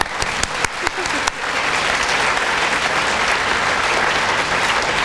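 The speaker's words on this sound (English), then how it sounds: "Can I get a round of applause for that one?" Audience applause at a middle school 9/11 commemoration program, opening with a few loud separate claps that quickly swell into loud, dense, sustained clapping from a large crowd.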